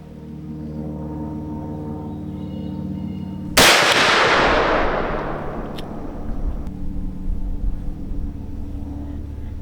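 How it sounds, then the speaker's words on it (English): A single loud, sharp blast from a Taurus Raging Hunter .454 Casull revolver fired outdoors at a 75-yard target, followed by a long rumbling echo that slowly fades, with no speech. "we've fired off 4 rounds from 75 yards"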